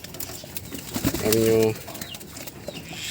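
Pigeons coo in a low, throaty burst of about half a second, close and fairly loud, at a home loft where the young birds are being bathed in the morning; a person speaks briefly around the call.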